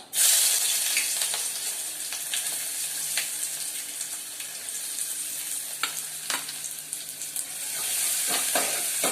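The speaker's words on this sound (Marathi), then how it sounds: "तेल बघा तापलंय आपलं। कढीपत्ता टाकला, कांदा," Onion and curry leaves drop into hot oil in a pot, giving a loud, steady sizzle with a brief splutter at the start and scattered stirring clicks and scrapes, heard close and alone.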